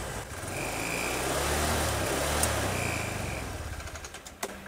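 A Honda Vario CBS Techno scooter that sputters and stalls drones with a steady, low engine hum that swells slightly and then eases off, with a couple of faint clicks near the end.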